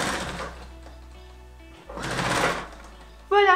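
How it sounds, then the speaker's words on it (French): A sewing machine stitches the elastic of a fabric-scrap hair scrunchie, a close steady mechanical whir that pauses and returns, with someone speaking over parts of it. "Et bien l'élastique il va falloir le coudre, comme ça."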